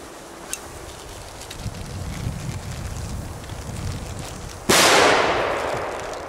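Fireworks set off outdoors in rain, a Belgian-bought shot numbered three: faint pops and crackle under wind noise, then one loud close burst near the end followed by a long hissing, crackling decay.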